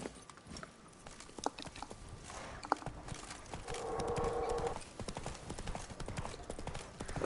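Horse hooves clip-clopping in The Witcher 3: Wild Hunt on PS5, a steady walking rhythm of hoof beats over game ambience and music, with a brief louder tonal swell midway.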